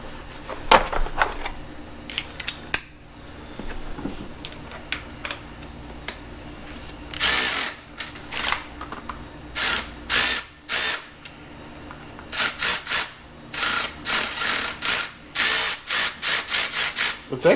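A Milwaukee M12 FUEL 1/2 inch digital torque tool whirs in short bursts while driving sockets, first a few scattered ratchety clicks, then a run of loud, closely spaced motor pulses, with occasional talk between.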